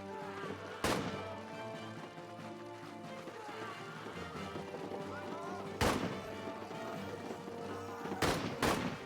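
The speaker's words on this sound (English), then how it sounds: "Still some shooting going on." Gunfire in the WWI trench video game All Quiet in the Trenches: a few loud close shots stand out over a dense bed of distant battlefield rumble and scattered firing.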